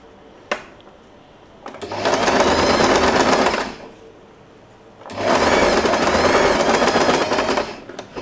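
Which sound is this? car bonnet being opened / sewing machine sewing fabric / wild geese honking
sewing machine sewing fabric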